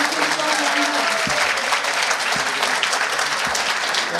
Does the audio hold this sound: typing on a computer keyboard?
no